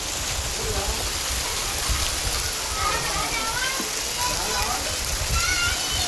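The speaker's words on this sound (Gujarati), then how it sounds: "બહુ જબરજસ્ત વરસાદ આવી ગયો છે" Heavy unseasonal rain in north Gujarat pours down steadily, a dense, constant hiss and patter with no break, while voices are faintly audible beneath it.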